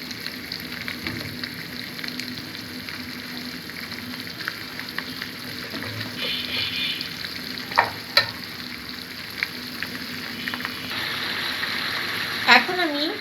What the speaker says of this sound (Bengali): এখন আমি দারচিনি, এলাচ, লবঙ্গ এবং তেজপাতা দিয়ে মশলাটাকে ভালো করে কষিয়ে নিচ্ছি।